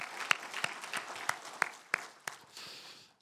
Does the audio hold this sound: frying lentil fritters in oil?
no